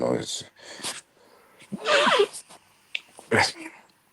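A single short sneeze bursts out amid casual conversation between two men, followed by more talk.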